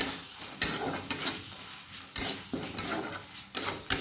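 Chicken masala spice stir-frying in a pan for an Odia-style pointed gourd curry, a sizzling hiss broken by several loud, sharp spoon scrapes and stirs at an uneven rhythm, close and alone.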